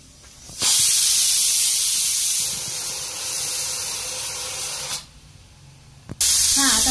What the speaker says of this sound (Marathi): आता कुकरची शिट्टी होतात